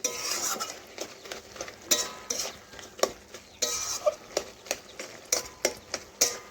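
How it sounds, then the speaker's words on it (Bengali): A metal spatula stirring and scraping a spicy ivy gourd and potato curry in a pan, giving a steady rhythmic series of sharp clinks and scrapes with faint sizzling underneath. "এজন্য আমি খুরপি দিয়ে ঘেঁটে দিচ্ছি।"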